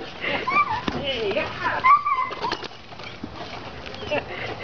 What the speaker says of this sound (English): Hey, big dog.